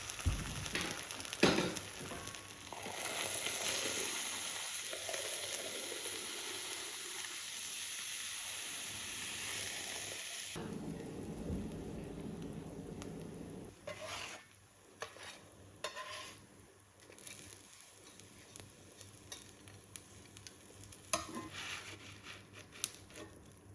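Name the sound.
potato bread frying in butter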